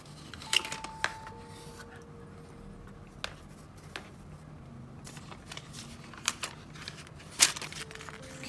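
Paper packaging from a set of AirPods Max headphones rustles and crinkles during unboxing, with small scattered handling clicks and a few sharper crackles, close and fairly quiet, no talking.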